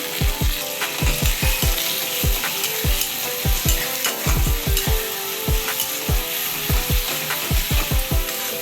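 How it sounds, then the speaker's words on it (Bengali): Taro leaves frying with salt in a pan, with steady sizzling under repeated rhythmic scrapes and knocks of a spatula stirring close by; nobody speaks. "এবার আমি একটু নুন দিয়ে দেবো পরিমাণ মতো দিয়ে এটা একটু ভেজে নেবো"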